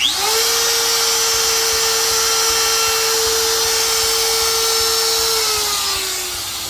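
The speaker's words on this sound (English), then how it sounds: "So hang on, this is the first plunge cut." A router plunges into the center of a star-shaped workpiece, its high steady whine holding loud and close for several seconds before dropping in pitch as the bit winds down.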